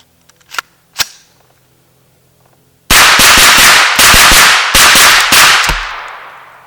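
An AR 9mm carbine loaded with a Magpul Glock 19 magazine fires a quick, loud burst of close gunshots after a few faint handling clicks, the string of roughly a dozen rapid cracks broken by brief pauses before ending.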